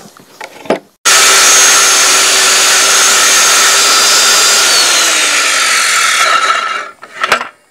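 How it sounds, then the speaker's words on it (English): A saw, likely a chainsaw, cuts through the rest of a log dovetail joint on a half-log cabin build, starting abruptly with a loud sustained whine whose pitch dips near the end before cutting off, bracketed by short knocks. "Now I can turn it up on its side and cut the rest of the dovetail."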